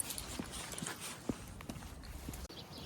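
Faint, irregular hoof clops from a horse walking near a stable, with a few soft distinct knocks over light ambient background noise.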